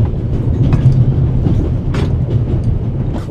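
A steam train rolling along in the video game The Raven, a steady low rumble of wheels and carriages with faint clanking and clicks, heard close and continuous without any talk.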